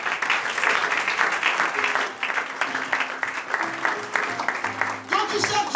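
A church congregation applauds with sustained, dense clapping at moderate distance, a crowd of hands rolling steadily while voices call out and speak over it.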